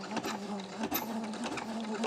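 A sewing machine runs steadily in a short close burst while stitching a lined bag with no bias binding, starting with a reverse backstitch, a continuous mechanical whir with light rhythmic clatter.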